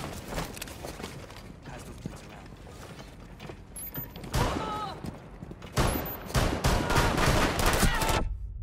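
Gunfire in Tom Clancy's Rainbow Six multiplayer, bursts of rapid shots from mid distance, some clusters louder and closer than others, amid game noise with some talking.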